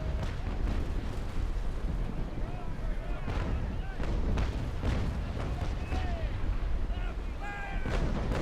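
Six-pounder long cannons firing in a naval sailing-ship battle game, a loud continuous barrage of booming shots over sea and wind ambience, with someone talking over the gunfire.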